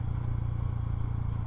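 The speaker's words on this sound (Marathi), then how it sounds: "मस्त इंजिन चालतं आहे" An MSRTC Lalpari state transport bus engine runs at a steady, low, even rumble in fifth gear, with a faint mechanical throb and no talk.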